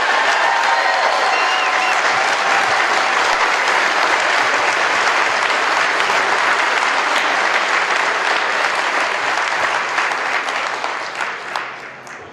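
Sustained audience applause fills a public rally on gun rights at a county event, dense steady clapping from a sizeable crowd that holds evenly for most of the stretch before thinning and fading at the end.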